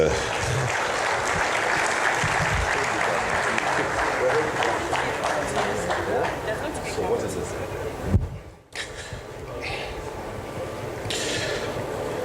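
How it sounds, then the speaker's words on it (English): Sustained audience applause at a book launch for a general's book on Nigeria and Boko Haram, a steady dense clapping wash that dips briefly near the end before resuming, with a voice speaking over it. "That applause is not strong enough for this."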